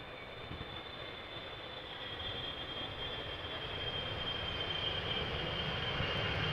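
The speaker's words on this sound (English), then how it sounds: "this is a 777-300ER in the Sky Team livery" A Boeing 777-300ER in SkyTeam livery lands at Amsterdam Schiphol Airport, its broad jet engine roar swelling steadily louder over several seconds with a high whining tone above the rumble.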